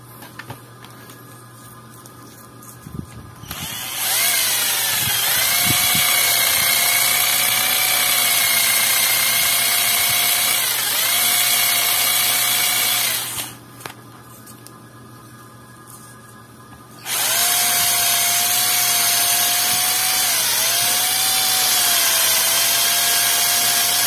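A power tool whines steadily while sanding a part of an Orbit electric fan that hums and stops, running in two long, loud bursts separated by a short pause, with a faint background hum between.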